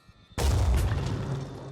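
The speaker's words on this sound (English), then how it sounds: "That was a hell cannon. It was a very long shot." A single deep boom of a hell cannon firing a long shot in the video game Blood and Titanium. It erupts suddenly and loud, then rumbles and slowly decays.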